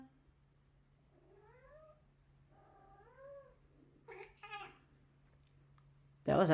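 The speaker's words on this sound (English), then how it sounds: "That was an actual meow." A pet cat gives a few soft, rising meows close by in a quiet room, each one short, with a brief louder noise at the very end.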